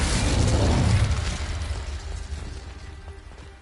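Confringo and Incendio spells in Hogwarts Legacy go off as a loud rumbling blast and fiery roar that swells for about a second and then slowly fades into a low hiss.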